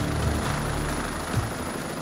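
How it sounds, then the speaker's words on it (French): A civil protection rescue helicopter drones continuously nearby at night, a dense, throbbing rotor-and-engine roar that fills the whole two seconds without pause. "L'hélicoptère engage son treuillage,"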